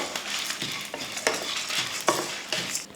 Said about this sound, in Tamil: கொஞ்சம் கருவேப்பிலையும் சேர்த்து இதையும் வறுத்துடலாம்.